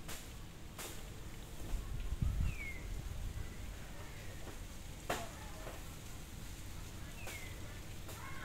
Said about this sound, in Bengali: এখন মিডিয়াম হিটে কাবাবগুলো ভেজে নিতে হবে।